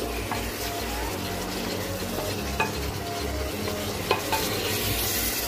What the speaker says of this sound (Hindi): एक दो मिनट इसे हम ऐसे ही चलाएंगे क्योंकि हम मसाला भून लेंगे थोड़ा सा